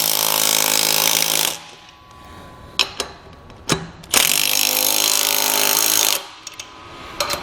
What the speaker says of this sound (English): From here you can go ahead and tighten down your lug nuts.